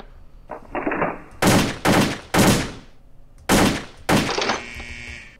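AK-47 fire on a shooting range in a World of Guns simulation: a handful of loud, separate shots and short bursts, each cracking sharply and then trailing off, with a brief metallic reload-like clatter near the end.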